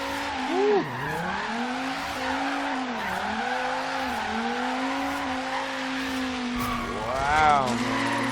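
Dodge Viper drifting in Forza Horizon 3, with a steady engine drone and long, wavering tire squeal running through the whole stretch, swelling into a louder rising screech near the end.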